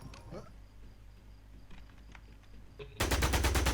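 Automatic gunfire from police shooting in a Brazil-set video game, erupting loud and dense near the end after quieter background game noise, with a voice talking over the scene.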